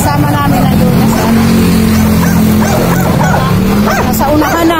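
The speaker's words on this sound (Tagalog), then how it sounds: "May aso." A dog barking outdoors along a road on the way home, short yips and barks over a loud car engine drone and background voices.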